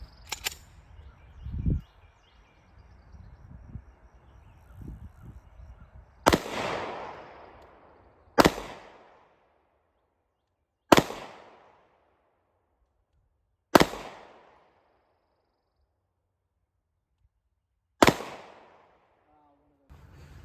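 Five pistol shots fired at a target on a range, each a loud sharp crack with a decaying echo, spaced a few seconds apart after some quieter handling noise.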